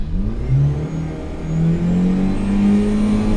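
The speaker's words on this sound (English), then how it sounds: "Now we are into first gear, revving the motor, and off we go." A car engine revving in first gear, loud and close, with a steady droning tone that climbs and holds as the motor is pushed, plus a thin high whine running across the top.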